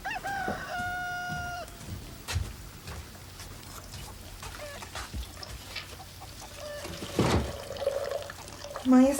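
Chickens cluck and a rooster crows in a rural farmyard, the calls near and intermittent over several seconds with scattered knocks and background movement.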